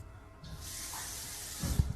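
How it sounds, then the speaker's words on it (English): A faucet suddenly turns on and runs with a steady hissing stream, close by, with a few soft bumps and knocks near the end. "Somebody playing with the faucet."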